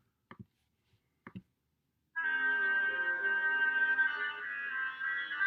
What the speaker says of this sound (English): Listen one more time to the oboe.